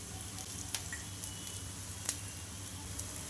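Tomato omelette frying in oil in a pan, a steady soft sizzle with faint crackles and a few sharp pops spread through.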